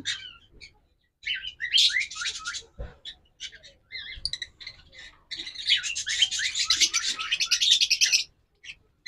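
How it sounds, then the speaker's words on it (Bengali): A pair of lutino Fischer's lovebirds chirp close by in bursts of rapid, high, scratchy tweets, with brief quiet gaps between clusters. "দেখুন, এটা হলো lutino fisher, sorry lutino lutino fisher"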